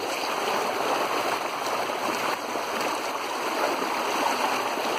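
Water rushes steadily in a flowing stream, a continuous broad splashing hiss without pauses, close and fairly loud.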